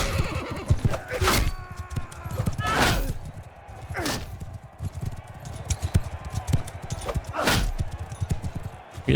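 Horses in the video game Mount and Blade Bannerlord give several loud whinnies over galloping hoofbeats and battle clatter, with someone talking over the action.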